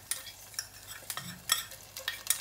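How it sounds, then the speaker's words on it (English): Ginger garlic paste frying in a pan for Anglo-Indian chicken pish-pash, heard as a series of short, close stirring scrapes and soft sizzles recurring every half second or so, with no talk. "now I'm adding in our ginger garlic paste."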